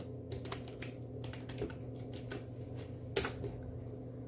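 Close computer keyboard typing Python code, a quick uneven patter of key presses with one louder clack near the end, over a low steady hum, no voices.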